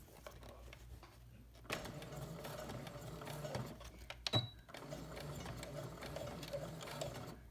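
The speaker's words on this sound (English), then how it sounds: "So I'm at my sewing machine to top stitch the bag." A sewing machine running steadily and quietly while top stitching a tote bag, a soft continuous hum with a brief knock partway through and no talk.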